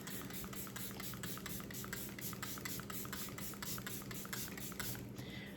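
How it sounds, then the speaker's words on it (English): Faint, rapid spritzes of Mecca Max facial toner mist in a quick, even series of soft hissing bursts. "I'm going to spritz with the Mecca Max"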